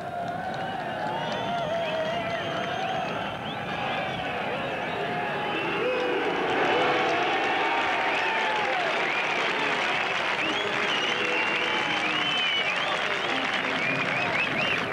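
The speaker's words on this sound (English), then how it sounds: "There's a big crowd building up." A large crowd at a 1990 Bradford versus Leeds rugby league match cheers, claps and roars continuously, the noise swelling louder midway as the teams take the field, with whistles and shouts rising above the din.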